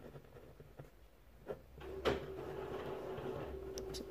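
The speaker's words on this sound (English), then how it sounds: "that's the sound of my printer going to sleep" Faint mechanical clicks and a soft thunk from a printer going to sleep, then a steady low electronic hum as it winds down nearby.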